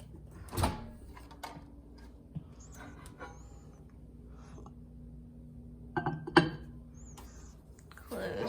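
Microwave door being shut in a home kitchen: a sharp click-thud early on, followed by a few faint knocks and a second cluster of clicks later, with quiet room tone between.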